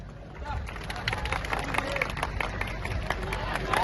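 A crowd at an outdoor village Govinda human pyramid event claps and cheers in a noisy mass, dense applause under general hubbub and voices, growing louder toward the end.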